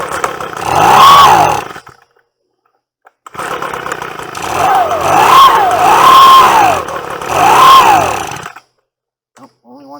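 A small Echo PB-250 two-stroke leaf blower engine running on choke, surging loudly in uneven bursts that cut out and restart, with brief gaps of silence between runs.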